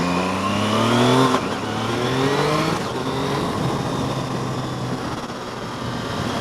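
Triumph Tiger Sport 660 motorcycle engine heard while riding on twisty roads, a steady, fairly loud drone with rising pitch sweeps as it accelerates through a couple of gear changes, backed by constant wind rush.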